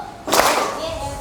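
Schoolchildren in an Indonesian fifth-grade classroom clap together in one loud burst that quickly fades, and a faint voice can be heard afterward.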